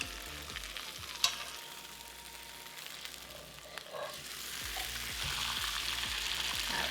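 Steady frying sizzle of spatchcocked chicken in a cast iron skillet crackles close up for several seconds, with a sharp clank early on and the hiss growing slightly louder toward the end.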